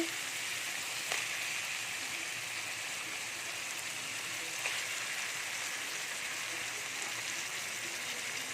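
Mutton pieces dropped into hot oil for a spicy potato mutton curry, giving a steady, loud, dense sizzle and crackle that holds evenly throughout with a couple of faint clinks.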